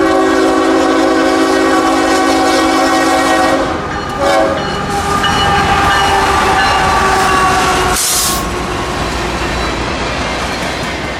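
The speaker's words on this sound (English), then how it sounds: "They're coal hoppers returning north from the Seminole Power Plant at Bostwick, Florida, to the mine at Atkinson, Kentucky." Northbound empty coal hopper freight train passing up close, a loud continuous roar of wheels and rolling cars with a sustained horn blast at the start and a sharp squeal partway through.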